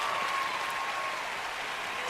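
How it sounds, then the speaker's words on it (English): An audience claps after a magic trick at a live show, a dense, steady round of applause throughout at moderate loudness. "Give a big round of applause for Angie."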